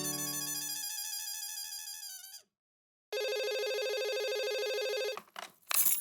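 A phone ringtone plays during a call, a bright electronic melody that cuts off after about two seconds, then returns as a steady tone before ending with a few clicks.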